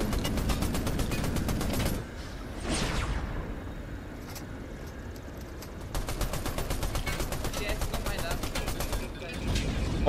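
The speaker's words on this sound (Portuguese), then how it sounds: "Onde veio esse tiro?" Rapid bursts of automatic gunfire from a video game, loud and dense at first, pausing briefly, then returning in long rattling volleys with a whoosh or two between, over faint background game noise.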